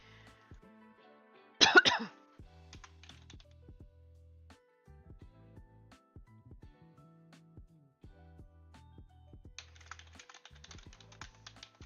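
One sharp cough rings out near the start, set against steady soft keyboard typing and clicking that continues throughout.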